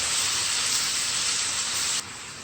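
Shrimps sizzle and crackle steadily as they stir-fry in a pan over medium-high heat, a dense, even hiss that stays loud throughout and eases off slightly near the end.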